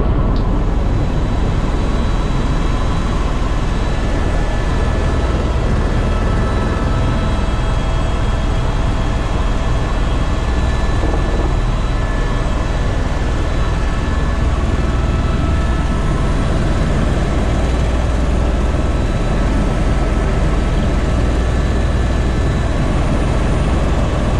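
A helicopter flies over the north rim of the Grand Canyon, its steady, loud broadband rotor and engine roar heard from inside the cabin without a break.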